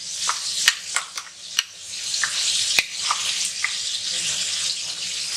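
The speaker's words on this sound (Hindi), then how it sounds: "साथ साथ पानी डालेंगे ताकि टमाटर सही से गल जाए।" Tomatoes cooking with salt in a pan as water is poured in, a steady watery hiss and bubbling broken by several sharp clicks and pops, close and moderately loud, while a kabab masala is prepared.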